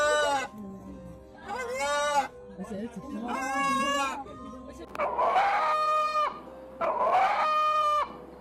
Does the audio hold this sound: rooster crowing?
yes